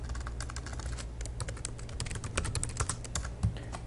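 Fingers type quickly on a computer keyboard, close up, with a dense patter of individual keystrokes and a slightly heavier tap near the end, heard on its own without speech.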